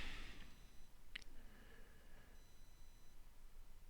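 A phone goes off in the background indoors, a faint short chirp followed by a thin electronic tone that hangs for a couple of seconds over quiet room hiss.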